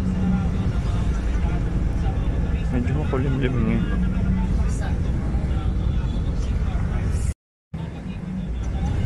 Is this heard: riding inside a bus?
yes